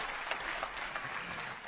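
Applause from a live audience at the Meta Quest 3 reveal event, a steady dense patter of clapping lasting under two seconds with no talk over it.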